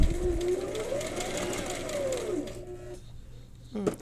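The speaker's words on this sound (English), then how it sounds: "you're going slow, and I'm not sewing every single second, right?" A sewing machine stitching a quilt square patch with interfacing, running in a steady whirring hum for a few seconds, then stopping, with a brief mechanical clack near the end.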